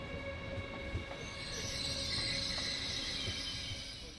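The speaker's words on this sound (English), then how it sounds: "our ICE 3 train is now approaching the station fresh from the depot" An ICE 3 high-speed train rolls into a station with a steady rumble, high metallic wheel squeal rising and holding, heard close and moderately loud.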